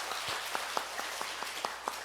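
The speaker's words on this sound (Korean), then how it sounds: "우리 하나님께 감사와 영광의 박수 올려드리겠습니다" Church congregation clapping during a video worship service, a steady moderate wash of applause with a few distinct individual claps standing out at a regular rhythm.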